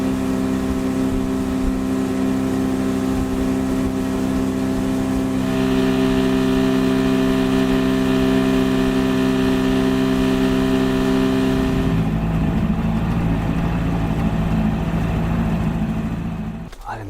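Vehicle engine droning steadily on a drive back to camp during a Tennessee public-land turkey hunt, loud and close with shifting tone as it changes speed.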